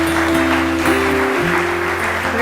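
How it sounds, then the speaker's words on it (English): A church congregation applauds Sister Emily with sustained, steady clapping over a held musical drone, loud and continuous throughout. "Could you all give Sister Emily another round of applause?"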